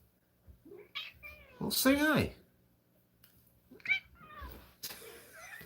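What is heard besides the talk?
cat meowing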